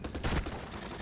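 Rifle fire from infantry in the World War II strategy game Steel Division sounds as a brief, dense burst of overlapping gunshots, loud and crackling, over about a second.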